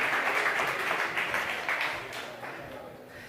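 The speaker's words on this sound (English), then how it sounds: "So let's do a big applause and welcome them immediately." A conference audience claps to welcome startup panelists onto the stage: a dense, bright wash of hands that fades slightly toward the end, with talk mixed in.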